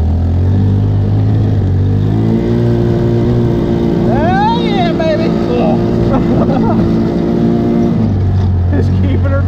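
A Tomberlin Crossfire 150cc go-kart engine runs steadily and loud throughout, with a constant low drone that rises slightly midway, while people talk over it.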